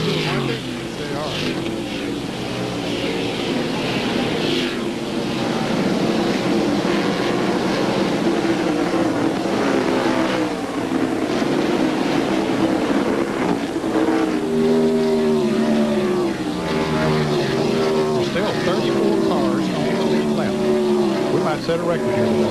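NASCAR stock cars roar through a turn at Watkins Glen during the 1997 race, a continuous layered engine drone with pitch sweeps as cars pass, beneath steady commentary.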